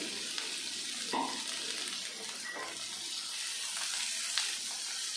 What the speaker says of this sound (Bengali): এবার দিয়ে দেবো কেটে রাখা পেঁয়াজ।